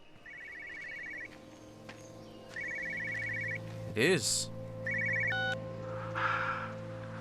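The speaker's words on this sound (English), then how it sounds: "I hear a phone. Is it in this car?" Telephone ringing in a car inside the video game Everybody's Gone to the Rapture, three repeated electronic ring bursts with pauses between, faint and distant-sounding, with a brief voice speaking midway.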